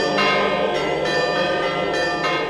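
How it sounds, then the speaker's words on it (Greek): Church bells of a Greek Orthodox church ring loud and clear in repeated bright strokes with a rich, lingering resonance that fills the whole stretch. "Οι καμπάνες του Ιερού Ναού των Ταξιαρχών αναστατώνουν τους κατοίκους."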